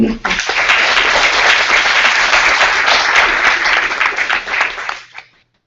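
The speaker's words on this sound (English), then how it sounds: "So if you could please give those two another round of applause" A symposium audience on autism and inclusion breaks into loud, close applause, sustained and dense for about five seconds before tapering quickly to silence.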